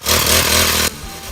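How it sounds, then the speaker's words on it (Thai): A motorized grass cutter buzzes loudly at full throttle while cutting pangola grass in a Thai field. The close, harsh engine whine drops sharply to a lower idle near the end of the short burst. "เอาเดี๋ยวผม ขอ ตัดหญ้าก่อน"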